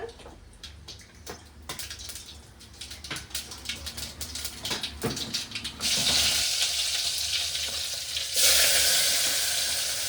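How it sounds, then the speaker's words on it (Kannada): Mustard seeds and cumin crackle in hot oil for an alasandi kaalu palle, starting as sharp scattered pops and settling into a dense, loud, continuous sizzle with occasional stirring, no one talking. "ಅದಕ್ಕೆ ಎಣ್ಣೆ ಹಾಕ್ಕೊಂಡು ಸಾಸಿವೆ ಜೀರಿಗೆ ಹಾಕ್ಕೊಂಡು ರೆಡಿ ಮಾಡ್ಕೊತಾರ"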